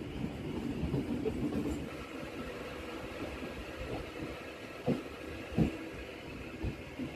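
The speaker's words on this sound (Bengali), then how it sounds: "আমাদের ট্রেন বাদিকে ঘুরে যাবে শান্তিপুরের দিকে।" A Ranaghat–Krishnanagar City local train running via Santipur rolls off the straight line at Kalinarayanpur junction and bears left toward Santipur; a low, steady rumble from onboard is punctuated by occasional dull thumps of wheels over rail joints.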